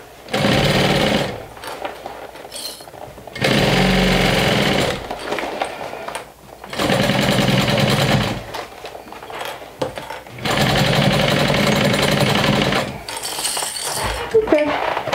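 A sewing machine stitches a fold-over clutch bag in four loud, sustained runs of rapid mechanical chatter, each a couple of seconds long and separated by brief pauses, with no talking.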